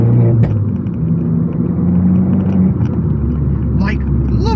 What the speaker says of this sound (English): Man, this car is ridiculously, ludicrously fast, and that's all thanks to that paper filter.